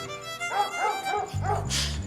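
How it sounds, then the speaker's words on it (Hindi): A female dog barks and yips in a few quick bursts, close and loud, with a short whimpering note, over a faint background tone. "अरे भौंक भौंक के इसने मेरे कान पका दिए"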